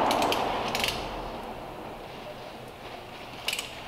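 Ratchet wrench clicking as a bolt is snugged down during a timing belt replacement on a Peugeot 308, short close bursts of rapid pawl clicks with quieter workshop noise between them.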